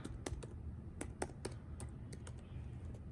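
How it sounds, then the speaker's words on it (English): Quiet, close-up keyboard typing: sparse, uneven key clicks tapped one at a time, with no speech. "Just typing one hand here."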